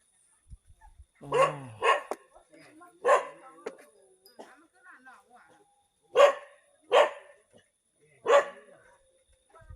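Several loud barks ring out in separate bursts, a dog or two yapping close by in rice fields at night, with short pauses between, plus a brief whimper early on.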